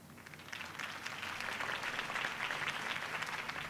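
In Batman: The Telltale Series, a crowd applauds after Harvey Dent's campaign speech, a fairly soft but dense wash of clapping that builds in the first second and then holds steady.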